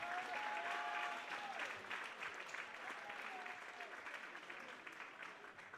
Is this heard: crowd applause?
yes